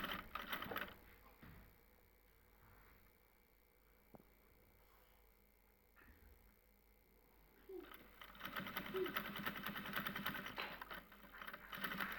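A sewing machine stitches hanging bead lace onto a garment in a home tailoring setting, running in bursts of rapid mechanical whirring and clatter with a quieter pause in the middle, heard close.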